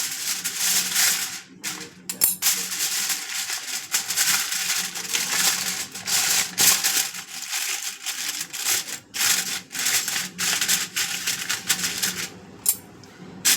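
Aluminium foil crinkling and rustling close up as it is pressed over a dish of steamed hilsa fish, with a continuous crackling texture and sharp crumpling bursts throughout.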